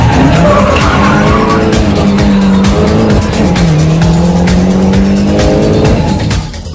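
A race car spins out on a track with loud, sustained engine whine and wailing tire squeal that slides in pitch, close and intense, with the roar dropping off slightly at the very end.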